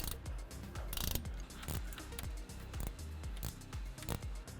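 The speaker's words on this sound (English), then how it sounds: "with a ratchet, we're going to tighten it up" Ratchet tightening the bolts of an aFe aftermarket differential cover on a Jeep Wrangler JL, a steady run of quick close mechanical clicks and short strokes repeating throughout with no talking.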